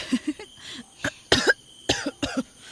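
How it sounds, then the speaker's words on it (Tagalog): A person coughs repeatedly in short, sharp bursts with brief pauses between them, close and clear, with some throat clearing. "Parang nung isang araw pa yung ubo ninyo ah."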